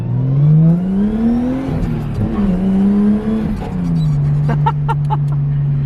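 A Nissan R33 Skyline engine drones steadily from inside the car while driving, its pitch climbing and easing as the revs rise and fall through the gears. The sound is close and continuous, with no voices over it.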